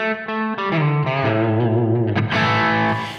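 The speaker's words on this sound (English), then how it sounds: "The delay is just set for 125 millisecond, one repeat, so it's like a slapback" Electric guitar through a Neural DSP Soldano SLO-100 amp model with a 125 ms single-repeat slapback delay and low reverb, playing a distorted melodic phrase of sustained notes with a short echo trailing each one.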